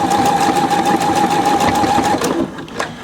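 Pfaff 720 sewing machine stitching a buttonhole through thick, fluffy wool, a steady rapid whirring drone with a clear motor whine for about two seconds before it slows and stops.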